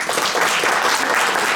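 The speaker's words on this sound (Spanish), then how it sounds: "Yo pediría un aplauso para ella." An audience at a Gabriela Mistral tribute held at the Instituto Cervantes in Stockholm breaks into steady, dense applause, a continuous wash of many hands clapping that fills the whole moment without any voices.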